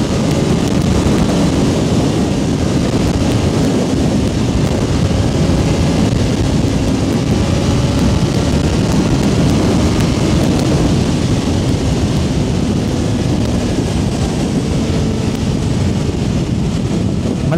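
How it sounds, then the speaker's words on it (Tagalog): Loud, steady wind buffeting the microphone while a motorcycle rides the Isle of Man TT course, a dense continuous roar with a rain-like hiss that holds at the same level throughout with no talking. "Malakas ang hangin."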